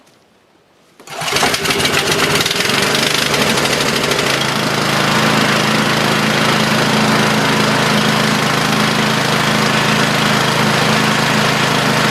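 A small engine sputters to life after a moment of quiet, then runs steadily at a loud, buzzing idle that continues without a break.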